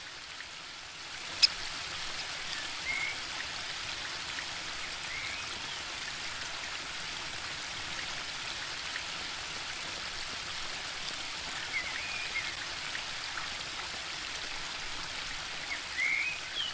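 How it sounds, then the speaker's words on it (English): Gentle flowing water from elf-made ponds and streams on a palace ground in The Book of Unwritten Tales 2, a soft steady trickling wash that holds evenly throughout with a few faint drips. "There are elf-made ponds and streams all over the palace ground."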